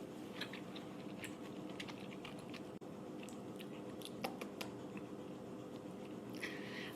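Someone biting into and chewing a soft, easily bitten foreign gummy candy with an Airhead-like texture, producing faint, close, irregular squishy clicks and small crunches over several seconds with no talking.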